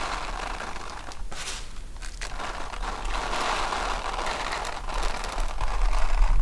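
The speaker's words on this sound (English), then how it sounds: "It's a simple rice and plastic bag" Dry rice sprinkled inside a plastic bag as a radio rain effect gives a close, steady crinkly patter of tiny grains that thickens slightly toward the end.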